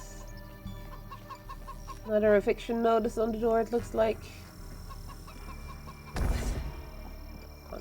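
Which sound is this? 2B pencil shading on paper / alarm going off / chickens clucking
chickens clucking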